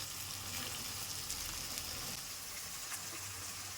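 Bottle gourd pieces drop into oil with frying ginger garlic paste and set off a steady, soft sizzle and crackle that stays even throughout, close by and unaccompanied by speech.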